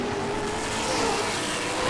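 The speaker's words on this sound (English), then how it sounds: "Chance Rice by 10 car lengths now over Wayne Houghton" Race cars at Springport Motor Speedway roar in a continuous loud engine drone, with several machines blending into one sustained rumble on the oval.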